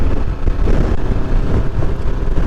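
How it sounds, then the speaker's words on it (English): Steady, buffeting wind roars across the microphone on a Cornish coastal hilltop, a loud low rumble with gusty surges throughout and no voices. "Christ, it's windy."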